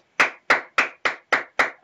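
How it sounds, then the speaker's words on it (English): A single person clapping after a poem is recited, seven sharp, evenly spaced hand claps close by, each with a quick decay, with no talk over them. "I got to clap for that one"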